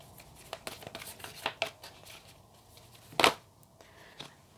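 Tarot cards are shuffled by hand in a quiet room, making a run of soft papery riffles and taps with one louder burst near the end.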